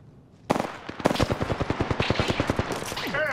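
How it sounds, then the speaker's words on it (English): Enemy gunfire in Apex Legends on the Kings Canyon map arrives as a rapid run of close, sharp automatic shots in a steady burst lasting a few seconds. "The enemies are shooting at me."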